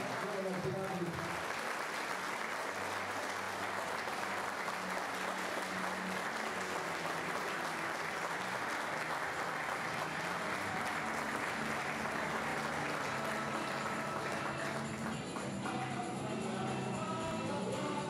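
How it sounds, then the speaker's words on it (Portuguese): An audience at a sports memory tribute event gives a long round of applause, dense and steady throughout, with a murmur of voices mixed in. "Uma salva de palmas, então, a Júlio Rouve,"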